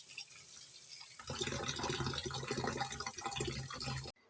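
After a quiet moment, water runs and splashes continuously as radish greens are rinsed, then cuts off abruptly near the end.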